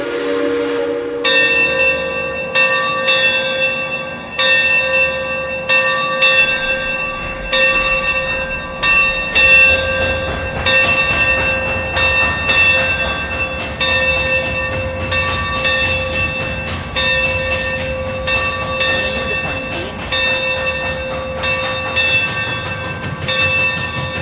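Roblox train pulling out of a station while a bell rings in steady repeated strikes over a low rumbling engine and rolling wheels, loud and close throughout with no talking.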